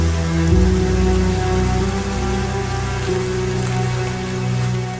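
Steady rain pattering on dry African grassland, a dense continuous hiss with a low background hum, no voices.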